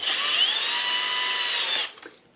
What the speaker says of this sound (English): to screw these screws all the way in